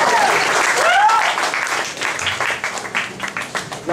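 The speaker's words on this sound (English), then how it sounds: "Give him a round of applause." Audience applause at a stand-up comedy show in a club, a loud burst of clapping right after a comedian's request that tapers off and turns patchy after a couple of seconds.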